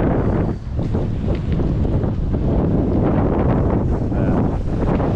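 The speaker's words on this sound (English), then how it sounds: "Sorry about the wind again." Heavy wind buffeting a microphone at Parque Colon beach in Aguadilla, a continuous low rumble with gusty bursts that never lets up.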